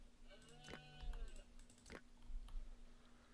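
Mouflon in the survival game Dawn of Man give a couple of short, harmonic bleats over a quiet in-game ambience, with light clicks scattered around them.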